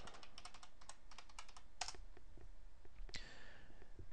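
A password being typed on a computer keyboard in a quiet room, as a quick burst of light key clicks followed by a few spaced taps and a louder final keystroke.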